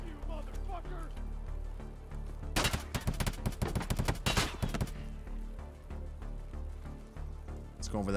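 A tight cluster of rapid gunshots from Escape From Tarkov, a loud burst of sharp cracks lasting a couple of seconds in the middle, with quieter game ambience and talking around it.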